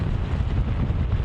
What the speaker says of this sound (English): Very windy there too, Evan, we can see.